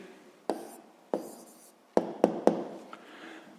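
A pen taps and scratches on paper as a math answer is written down by hand, a few sharp close strokes separated by quiet pauses, with no talking.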